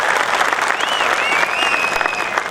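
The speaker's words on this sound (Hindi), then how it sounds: "इनके लिए जोरदार तालियां" Loud applause for the performing artists at a live music show at Kangra Fort in Jammu, dense crowd clapping continuing steadily throughout with a few faint whistles over it.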